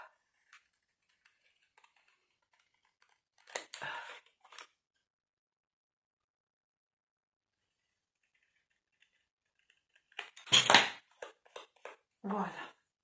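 Scissors cutting paper for a handmade wedding album, two short bursts of crisp snipping and rustling separated by quiet, close and fairly faint.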